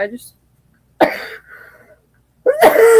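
A person coughs sharply up close, followed by throaty sounds and then another harsh, raspy burst at the end.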